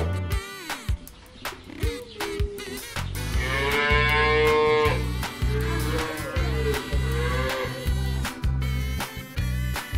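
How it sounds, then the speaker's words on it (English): Cattle on a farm moo repeatedly, with long, loud, close calls standing out over a steady rhythmic thumping music bed, and a brief bird-like chirp near the start. "Cow is a domestic animal, a farm animal and a big animal and a very famous animal."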